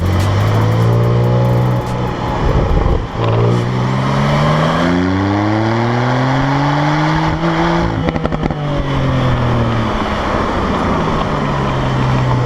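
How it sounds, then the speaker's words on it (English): A Porsche 911 Cabriolet with the top down accelerates hard, its turbocharged engine droning and rising in pitch through several gears with brief breaks at each shift, loud and close with wind noise and faint turbo whistle. "I don't know if you guys can hear the turbos spool up with the top down, but the exhaust on this car is nothing short of phenomenal"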